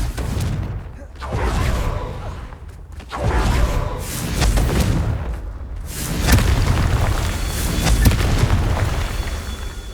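Confringo blasting-spell explosions go off in the Hogwarts Legacy video game on PlayStation 5. Several loud, deep booms follow one another with rumbling tails, filling the whole stretch.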